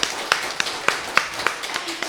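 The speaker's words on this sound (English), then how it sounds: "So a round of applause for your learning partners." Scattered clapping from a school concert audience, a handful of distinct, fairly close claps spaced unevenly rather than a dense ovation.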